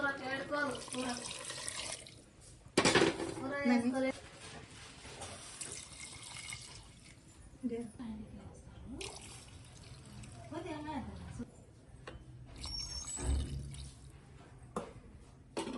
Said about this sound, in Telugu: ఇట్లా కలిపిన తర్వాత ఇందులో వాటర్ యాడ్ చేసుకోవాలి.